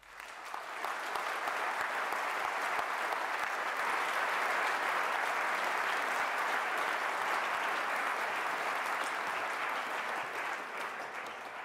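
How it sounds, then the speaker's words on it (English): Sustained audience applause after an academic ceremony speech, a dense, even wash of many hands clapping that swells in within the first second and holds steady at full strength throughout. "Thank you, ladies and gentlemen, for the applause."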